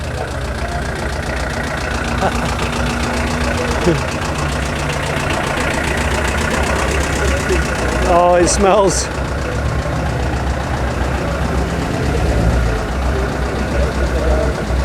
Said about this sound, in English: And listen to the old Merc diesel.